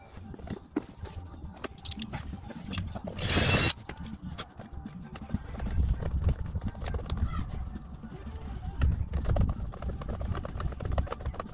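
Bolts being tightened on fiberglass fender flares fitted to a Golf 2 VR6: close mechanical clicks and ratcheting taps, with one sharp noisy burst early on and faint background shuffling.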